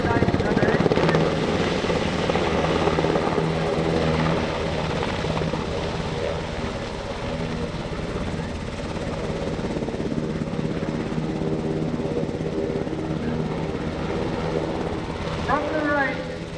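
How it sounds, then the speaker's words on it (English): Navy F/A-18 Super Hornet jets in an air-to-air refueling demonstration at a NAS Oceana airshow, a continuous loud engine roar with steady tonal whine throughout, a public-address voice talking over it. "The Super Hornet air-to-air refueling demo."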